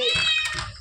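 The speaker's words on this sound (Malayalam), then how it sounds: "നോക്കുമ്പോ പൂച്ച" A single cat meow, close and fairly loud, with a rising then falling tone lasting under a second.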